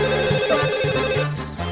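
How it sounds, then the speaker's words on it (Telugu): A mobile phone ringtone plays for an incoming call in a Telugu film scene, a steady looping electronic melody with repeated pulsing notes, fairly loud and close, with no talk over it. "ఈ ఫోన్ కాడే చేస్తున్నట్టున్నాడు. లిఫ్ట్ చేయి."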